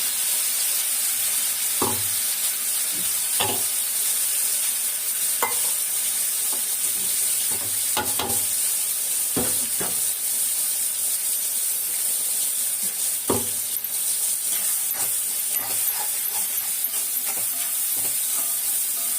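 Ground tomato and curry leaf paste sautés in a pan for garlic kuzhambu, a constant close hiss and sizzle with occasional spoon scrapes and knocks against the pan, no voices.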